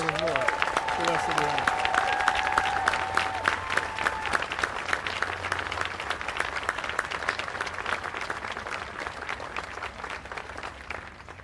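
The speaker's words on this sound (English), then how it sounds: "Please give a round of applause for our 2018 Spirit of Service honorees." A ceremony audience applauds award honorees at a Department of Defense service award event, with steady dense clapping throughout, a faint tonal sound near the start and some voices mixed in.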